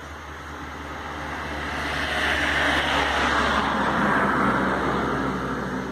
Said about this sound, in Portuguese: Olha um carro passando, né?